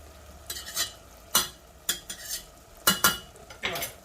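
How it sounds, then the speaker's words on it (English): A spoon stirs onions frying over medium heat in a pot for Greek lentils and rice, several distinct scraping clatters in irregular bursts over a faint, low sizzle, close and clear. "give that a stir"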